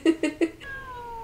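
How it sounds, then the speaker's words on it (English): A cat in the 1974 horror film Black Christmas meows in three short, quick cries, followed by a longer drawn-out meow, close and clear. "Oh, there's the cat."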